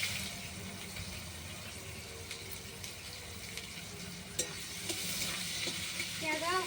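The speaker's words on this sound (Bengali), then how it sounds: "পেঁয়াজগুলো ভাজতে থাকে" Chopped onions fry in oil with a constant, close, hissing sizzle, a few soft stirring knocks, and a brief watery sound near the end; no talking.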